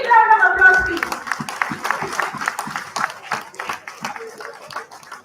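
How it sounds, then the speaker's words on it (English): Audience applause at an annual general meeting welcoming the zonal president to the dais, steady clapping from a crowd with a voice speaking briefly at the start. "A big round of applause, please."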